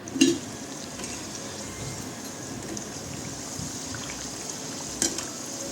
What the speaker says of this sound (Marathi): आधी पूर्ण तेल गरम करून घ्यायचं आणि मग ती मंद आच करायची आणि सेम आचेवर सगळे वडे तळून घ्यायचे.